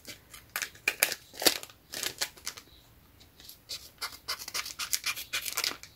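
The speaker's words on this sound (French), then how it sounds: "je viens couper ce qui dépasse" Paper trimmed with scissors in a series of short, crisp snips and crinkly cuts, close and fairly quiet, coming in uneven bursts with brief pauses between.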